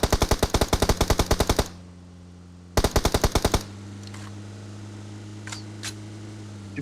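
Automatic weapon fire from the mobile battle royale game PUBG Mobile, two loud rapid bursts of evenly spaced shots separated by a pause, followed by a steady low hum with a few faint distant pops.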